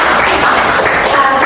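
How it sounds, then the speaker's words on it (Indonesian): Classroom applause from a group of students, a steady dense patter of clapping with faint voices mixed in, continuous and fairly loud for a brief moment. "Tepuk tangan juga"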